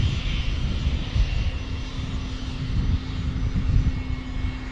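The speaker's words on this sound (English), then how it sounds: "Next arrival will be another NetJets Cessna Citation" A NetJets Cessna Citation Latitude business jet arrives at Dallas Love Field, a steady broadband engine roar with a faint whine on top, holding loud and constant throughout.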